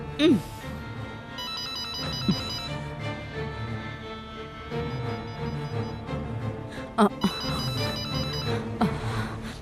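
A mobile phone ringtone plays a repeating electronic melody at moderate loudness, with people talking briefly around it.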